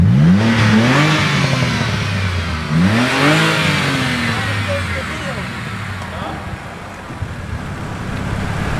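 A BMW E90 with a single-exit N1/Tomei-style exhaust revs and settles into a deep exhaust rumble close by, with someone talking over the first few seconds.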